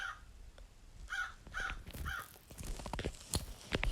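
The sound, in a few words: crow cawing in Roblox Brookhaven RP video game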